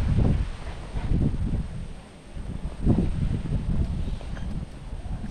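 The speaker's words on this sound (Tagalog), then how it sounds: "ang lakas ng hangin ngayon dito" Strong wind buffets the microphone over open rural fields in San Antonio, Nueva Ecija, a loud, rumbling, gusty roar that dips briefly then surges again, continuous throughout.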